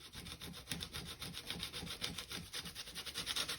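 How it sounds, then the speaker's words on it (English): A coarse scouring sponge rubs back and forth over a stencil in a steady, close, scratchy rhythm of repeated strokes, with no voices. "this is a scouring sponge, so it's got a little bit of scour to it, or rough edge"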